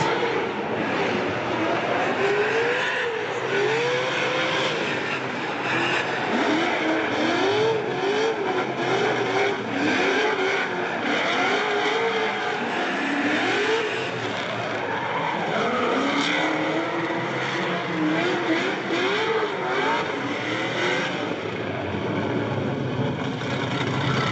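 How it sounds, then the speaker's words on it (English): A BMW E46 and a Nissan S14 drifting at Orange Show Speedway during a drifting competition qualifying run, with a loud, continuous engine roar and wavering tire squeal sustained throughout. "Up next, we got some BMW on Nissan action."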